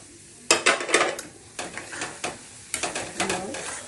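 Semolina being added and stirred into ghee for sooji halwa, heard as bursts of spoon scraping and clinking against the pan with a faint sizzle underneath, close and moderately quiet.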